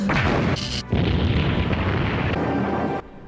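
An escape pod crashes in a TV show, a loud, close, sustained boom and crash with a sharp break partway through and a roaring, debris-like rumble, no talking.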